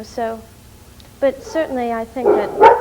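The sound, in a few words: dogs barking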